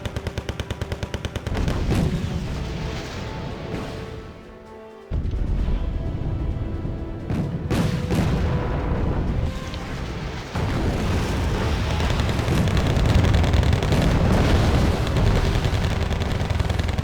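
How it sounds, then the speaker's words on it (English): In Wargame: Red Dragon, Leopard tanks fire on a T-80 amid a loud battle soundscape, with rapid machine-gun bursts, heavy cannon booms and sustained explosive rumble that drops briefly before surging again. "This Leopard is firing on that T-80 there, and this Leopard just starts destroying things"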